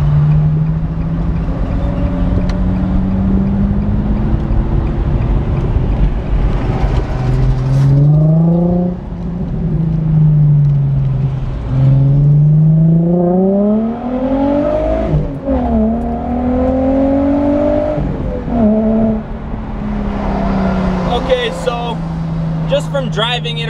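An Infiniti G35 fitted with a plenum spacer drives along with its engine droning loud and close, rising and falling through revs and gear changes for the whole stretch.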